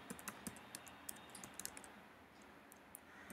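Rapid keystrokes on a computer keyboard, a quick irregular run of light clicks while a package install command is entered in R, close and quiet, with no talking.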